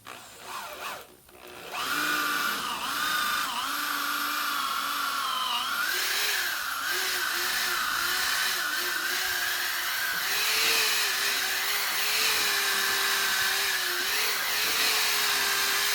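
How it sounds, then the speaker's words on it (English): A power drill bores bolt holes through the timber of a deck frame, a steady loud whine that starts after a couple of seconds and holds with slight pitch wavering throughout, heard up close with no talking. "So let's get these holes drilled."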